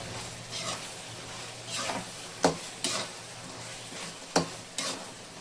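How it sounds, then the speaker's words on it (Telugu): Brinjal (eggplant) pieces frying in a pan for a fish curry, a soft sizzle under a few sharp, sparse spatula clacks and scrapes, fairly quiet and close. "ఇప్పుడు మనం కడిగి పెట్టుకున్న వంకాయలు వేస్తాం ఇది కొద్దిసేపు ఫ్రై అవ్వాలి"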